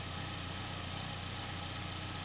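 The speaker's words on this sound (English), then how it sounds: "Then I kept the engine running for a few minutes after the thermostat opened" A car engine idles steadily during a radiator flush that has ATF contamination in the cooling system, a dense, even rumble with a constant low hum that continues unbroken and without talk.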